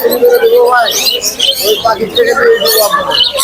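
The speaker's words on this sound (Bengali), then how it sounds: "আরিফ ভাই আনিস ভাই এখানে অনেক সুন্দর সুন্দর পোকারল পাখি লাভবাদ পাখি বাজরিগার পাখি অনেক পাখি আছে" Small pet birds such as budgerigars and lovebirds chirp and tweet constantly in a crowded pet bird shop, a dense, busy chatter of high calls that runs all the way through.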